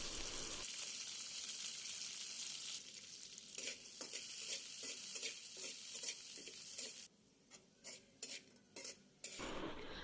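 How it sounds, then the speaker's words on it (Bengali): Nuts fried in ghee in a pan give a close, bright sizzle with scraping stirs and metal utensil clinks, pausing briefly a few times. "কিছু বাদাম আমি এই ঘিয়ের সাথে ভেজে নিব।"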